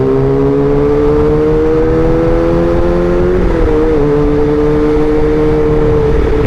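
Motorcycle fitted with a Pro Speed Black Shark exhaust silencer, riding at a steady loud drone with harmonic engine tones that shift slightly in pitch midway as the throttle changes, continuous and close.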